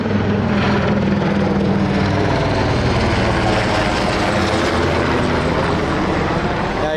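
Firefighting aircraft roar overhead during a wildfire above North Bend, British Columbia, a loud, continuous engine and propeller drone filling the whole stretch without pause.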